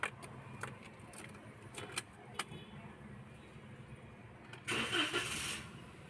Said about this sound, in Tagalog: umandar na yung engine